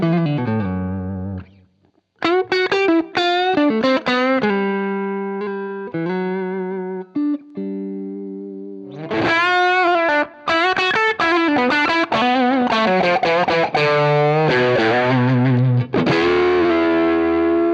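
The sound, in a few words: guitar through a Tube Screamer overdrive pedal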